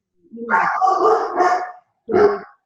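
A dog barks and yips close by in a home during a podcast interview, first in a run of rough vocal bursts and then in one short final bark.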